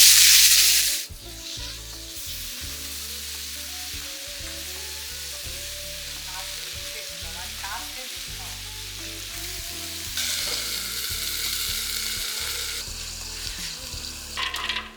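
Brinjal tempers in hot oil with dry red chilli, asafoetida and curry leaves, a loud, steady close sizzle with scraping stirs and occasional bursts of stronger crackle.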